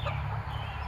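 Bantam chickens cluck softly in a farm flock, a brief, low burst of fowl chatter heard close by.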